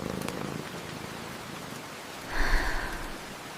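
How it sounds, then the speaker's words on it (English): Steady rain falls outside a cozy cottage, making a soft, even hiss with a brief swell of heavier patter partway through. "she sits near the fireplace and peacefully knits as the rain continues outside"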